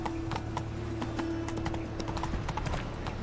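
Roach, the horse from The Witcher video game, gallops with steady, rhythmic hoofbeats that stay close and clear over a constant low hum.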